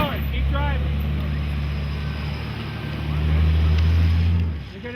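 An off-road 4x4 vehicle grinds along a rough trail during an extreme off-roading ride in New Mexico, its engine a steady loud rumble with wind buffeting and rising revs near the end, under voices calling out.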